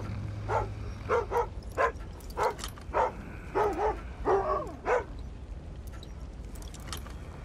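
A dog barks in the stealth video game Thief: about nine short, sharp barks and yips in an uneven run over several seconds, fairly close and clear, then the scene falls quiet.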